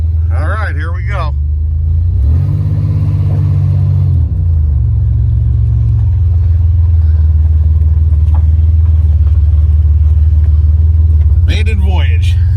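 A Buick Grand National with a freshly installed engine rolls off on its first drive, a loud steady low engine drone with a brief rev rising and settling, with a person talking briefly at the start and end.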